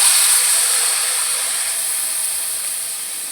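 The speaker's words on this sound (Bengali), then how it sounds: "এবার আমি জল দিয়ে দেবো" Water poured into a pot of hot biryani rice and spices gives a loud, steady hiss and rushing steam that fades slightly as it continues, heard up close with no talking.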